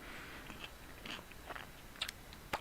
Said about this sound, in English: I'm chewing on my olives, by the way.